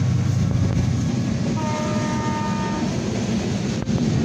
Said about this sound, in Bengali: দর্শক বন্ধুরা দেখেন ট্রেন যাচ্ছে